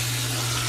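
Warm water runs steadily from a tap while a Mini Goldendoodle puppy is bathed, a constant close rushing flow with a low steady hum beneath and no talking.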